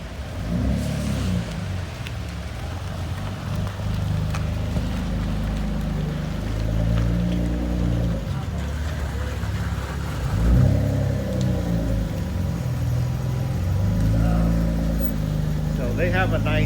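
A Mitsubishi 3000GT VR4 rolls slowly into an underground service bay, its engine a steady low rumble with light throttle swells, while people talk over it throughout.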